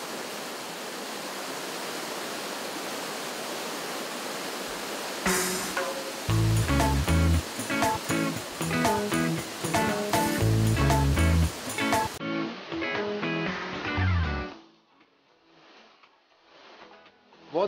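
Dunn's River Falls near Ocho Rios, Jamaica, spills into the sea as a steady broadband rush of water; after a few seconds loud music plays over it, then cuts out, leaving a faint wash.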